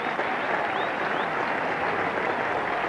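A cricket crowd at a 1983 England versus New Zealand Test match applauds good shots, the clapping a dense, steady wash that fills the whole stretch.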